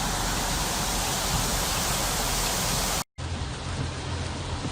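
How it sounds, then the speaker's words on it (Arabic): Heavy, flood-level rain pours onto the northern highway at Hafar Al-Batin in Saudi Arabia's Eastern Province, a dense, unbroken roar that cuts out briefly near the end before resuming just as loud. "ما شاء الله شوف الامطار"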